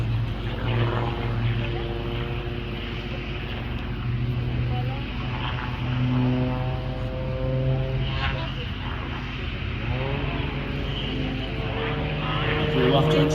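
Aerobatic propeller airplane flying a freestyle smoke routine at a night air show in Méaulte, a continuous droning engine hum with shifting pitch, heard under an announcer's commentary through loudspeakers.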